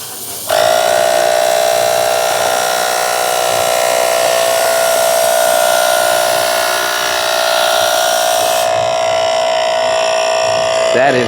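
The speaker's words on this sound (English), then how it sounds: "Now you'll see that the compressor is working because it's missing the right pressure." The compressor of a milk foaming machine, running short of pressure, drones loud and steady with a strong electric hum, starting abruptly and running for about ten seconds before shifting pitch and stopping.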